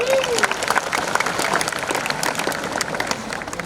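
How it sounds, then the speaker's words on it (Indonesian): An audience at a school award ceremony applauds a student being recognised, a steady, moderately loud wash of many hands clapping with a brief voice at the start. "silakan tepuk tangan"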